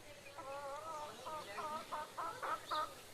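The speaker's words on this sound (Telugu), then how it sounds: "ఇంకా ఇది వచ్చేసి కోళ్ళు" Chickens cluck in a quick series of short, bright calls close by, about ten in three seconds, heard alone at a modest level.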